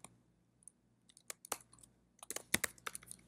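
Keys on a computer keyboard are typed in sparse, light clicks, followed by a denser burst of quick taps toward the end, close and fairly quiet with no talking.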